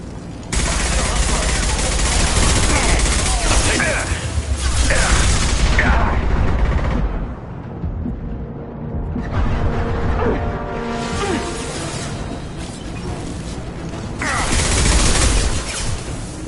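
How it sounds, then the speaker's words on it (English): Heavy gunfire in Mass Effect 2 from Blue Suns mercenaries and Vorcha, with dense rattling volleys and mechanical clatter that come in waves, one brief lull, and speech mixed in with the shooting. "Blue Suns and Vorcha shooting anything that moves"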